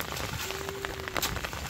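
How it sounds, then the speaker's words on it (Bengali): Steady rain falling on a rural farm during the monsoon season, a dense even patter throughout with a faint thin tone drifting through the middle. "গতকালকা থেকে বৃষ্টি হওয়া শুরু হয়েছে"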